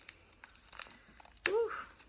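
Unwrapping a well-wrapped swap parcel: soft crinkling and tearing of packaging in brief scattered rustles, then a louder crumpling burst near the end, close up and fairly quiet.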